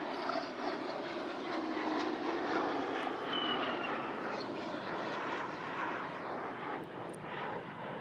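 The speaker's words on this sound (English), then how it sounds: "a couple of more military planes." Military planes pass overhead, their engines making a steady, broad droning roar that holds for several seconds and fades slightly toward the end, with no talking.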